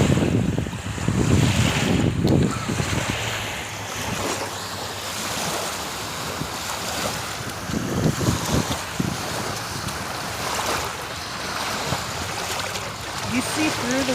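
Ocean waves wash over rocks near a sunset shoreline, rolling surf with heavy wind buffeting the microphone, loud and close, with a person's voice talking at times.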